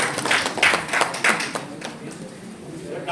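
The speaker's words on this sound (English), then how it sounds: "Can we please once again give them all a huge round of applause," A crowd claps at the launch of South Asia's first Women's Handball League in India. The clapping is moderate with a few sharper hand claps standing out at first, then it thins into a softer spatter over a murmur of voices.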